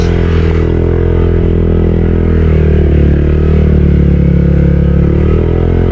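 A small motorcycle rides along a rough road near Casiguran, Aurora, with a steady close engine drone and low rumble. Rattling clatter from the bumpy surface continues throughout without talk.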